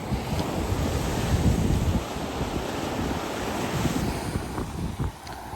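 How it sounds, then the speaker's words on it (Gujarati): Sea waves wash continuously onto the shore under strong wind buffeting the microphone, giving a loud, steady roar that eases slightly near the end. "આ છે મસ્ત સીલનો દરિયો"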